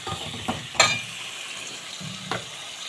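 Spices like turmeric and chili powder being sautéed in a pan, a soft steady sizzle with a few sharp clinks and scrapes of a stirring spoon against the pan, close up and without talking.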